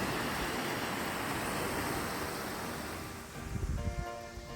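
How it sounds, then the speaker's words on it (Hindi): Sea waves wash steadily onto a beach in a continuous broad roar, with some wind noise on the microphone and a slight swell of surging water toward the end. "ये जो पानी की वेव्स की आवाज़ थी ये भी बहुत कामिंग थी।"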